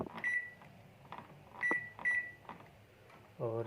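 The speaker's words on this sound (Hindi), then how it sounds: "देखें हमारा ओवन सिस्टम ऑन है।" A microwave oven just powered on gives faint short electronic beeps and soft clicks, with a quiet hum and a closing clunk near the end, heard close up in a quiet room.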